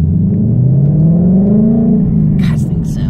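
A 2018 Ford Mustang fitted with an X-pipe exhaust revs up in a loud, close, continuous rising engine note that climbs and then settles, with brief hissy bursts near the end.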